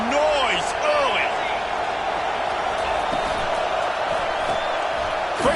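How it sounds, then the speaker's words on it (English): Stadium crowd noise in the College Football 25 video game, a loud, continuous roar with rising whoops and cheers, heard alongside voices talking. "This crowd bringing the energy and noise early."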